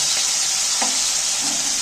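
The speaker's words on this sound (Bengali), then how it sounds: "দেখো টমেটা তো অনেকটা ভাজা ভাজা হয়ে এসছে" A brief, loud, steady sizzle of tomatoes frying in a pan, with one or two soft stirring scrapes and no speech.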